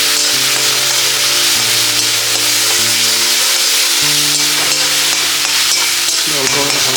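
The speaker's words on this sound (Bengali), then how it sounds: "অল্প হালকা করে ভেজে নিই।" Poppy seed paste and cashews fry with cumin powder in a pan, giving a loud, continuous sizzle with stirring scrapes, while music plays steadily underneath.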